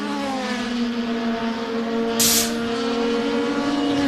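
Star Mazda series race cars battling for position at Laguna Seca, a steady loud engine drone with harmonic whine holding throughout, a brief hiss of a car passing near the midpoint.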